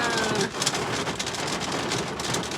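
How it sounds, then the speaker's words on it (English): Heavy rain pours down outdoors in a dense, constant hiss, loud and close, with no voice over it. "why you want to rain so hard now?"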